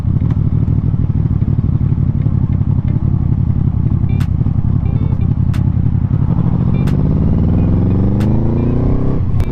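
A QJmotor Flash 600 V4 cruiser motorcycle idling in fourth gear, a loud, close, steady low engine rumble with slight unevenness, rising into a revving pitch sweep toward the end, with no talk.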